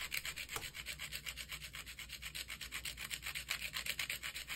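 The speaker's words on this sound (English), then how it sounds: "I ended up using a little miniature saw and using it like a rasp in order to get a fine dust." A small miniature saw is dragged like a rasp over a lump of pigment to grind it into fine dust, making quick, even, dry scraping strokes that repeat steadily and sound fairly soft and close.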